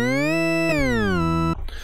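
A Bitwig organ synth holds sustained tones that glide smoothly from one pitch to the next as overlapping legato notes join together, then cut off abruptly into a brief rustle.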